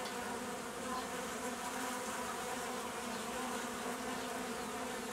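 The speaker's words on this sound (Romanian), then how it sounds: "albina care a mai rămas o să se adune pe acești faguri" A dense, steady buzz of many honey bees clustering on comb frames from a queenless nucleus colony, loud and close, droning continuously with no talking.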